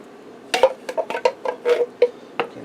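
Spoon stirring crushed tomato sauce in a pot for a pierogi lasagna, a series of close clinks and scrapes against the metal in an uneven rhythm.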